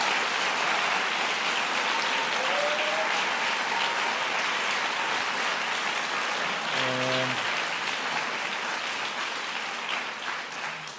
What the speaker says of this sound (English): give all those educators, counselors, and community members a big round of applause